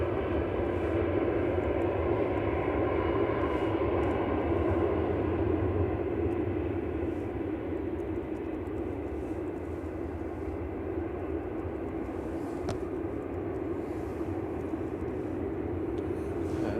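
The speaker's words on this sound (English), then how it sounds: "EasyJet taxiing out." An EasyJet airliner taxis at Manchester Airport, its engines giving a steady, continuous low roar and whine that holds at an even level throughout, with no talk over it.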